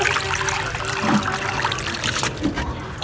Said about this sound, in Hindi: पहले पानी डाल दो गाइस।